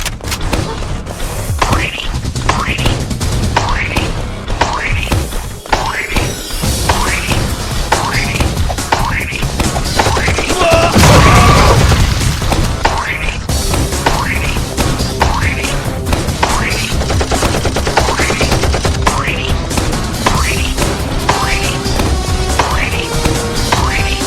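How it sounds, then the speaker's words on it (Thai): Continuous rapid gunfire in a video game, shots aimed at an enemy's arm, with loud rhythmic thuds and booms mixed with game music and sound effects, plus a louder burst of blasts partway through. "เราต้องยิงแขนมันนะ ห้ามยิงหัวมัน"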